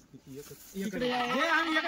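Kathiawadi goats bleat at a livestock sale, a few short calls first and then a louder, longer wavering bleat, with voices mixed in nearby.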